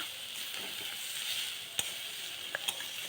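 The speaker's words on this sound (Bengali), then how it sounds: "এবার আমি বাঁধাকপি ক্যাপসিকাম টমেটো সব দিয়ে দিলাম দিয়ে ভালো করে নেড়ে চেড়ে নিয়ে" Cabbage, capsicum and tomato being stirred in a hot wok, a continuous close sizzle broken by a sharp scrape or clack and a couple of lighter knocks, no talking.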